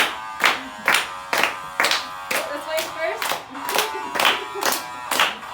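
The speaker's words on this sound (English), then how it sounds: "We're gonna clap in a square." A group claps in unison on a steady beat, tracing a square pattern count by count, with crisp evenly spaced claps and a voice talking over them.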